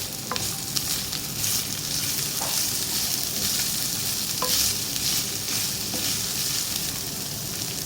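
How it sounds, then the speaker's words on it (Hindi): Onions and qeema frying in a pan make a dense, continuous sizzle, broken by occasional scraping and clinking as the mixture is stirred. "मिक्स करेंगे इसको।"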